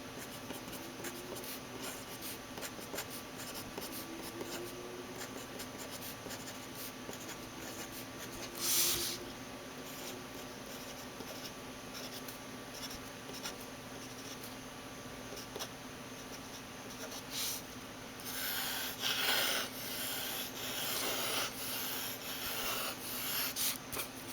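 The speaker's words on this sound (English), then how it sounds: "We're going to try it in just in terms of regular, everyday writing here and see how it does." A Pilot Varsity fountain pen writes everyday text on paper, giving faint, soft scratching strokes that run steadily and grow slightly busier and louder toward the end.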